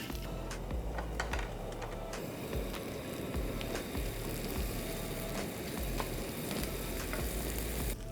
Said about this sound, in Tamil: அந்த வெங்காயம் வெந்துட்டு இருக்கும்போதே இந்த க்யூப்ஸாக வெட்டின வெங்காயத்தையும் இந்த ஆயிலில் போடுங்க.